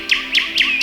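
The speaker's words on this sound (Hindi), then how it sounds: "चिड़ियों की चंचहाट की सुंदर ध्वनि जब हमारे कानों में सुनाई देती है" Bright, repeated chirps from small birds at sunrise in Uttarakhand, four quick rising-and-falling calls in under a second, close and clear with no talk.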